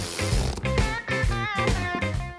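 Hand ratchet tightening the bottom bolt of a Distinctive Industries Touring II front bucket seat in a car: a rapid clicking ratchet in about five close, loud bursts with short pauses between strokes.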